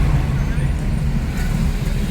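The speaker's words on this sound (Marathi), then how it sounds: "थोडंसं ट्रॅफिक वगैरे मिळते।" Road traffic entering Khopoli town, a steady dense rumble of engines and passing vehicles close by, loud and continuous throughout with no clear horn.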